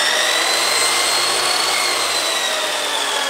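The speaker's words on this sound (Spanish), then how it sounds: "Un taladro para batir la masa." An electric drill used as a mixer to beat dough in a home kitchen gives a steady, high whirring whine. It runs continuously and evenly for over three seconds with no talk.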